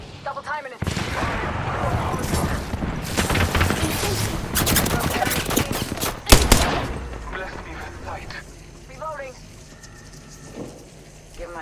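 Gunfire in the Apex Legends video game comes as rapid bursts of shots for several seconds, then a single sharp loud crack, then quieter scattered sounds as voices talk over the action.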